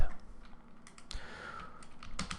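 Keys tap on a keyboard while a word is typed out, a few quick, moderately close clicks in an uneven rhythm, with a faint voice in the background.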